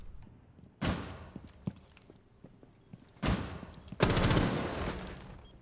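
A short burst of R4C rifle fire in a video game cracks out in sharp, separate volleys, one near the start and a louder, longer one toward the end, over a quiet background.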